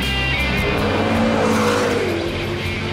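McLaren MP4-12C sports car under hard acceleration with its turbos spooling: a loud, continuous engine roar with rising and shifting pitch, heard close and alone.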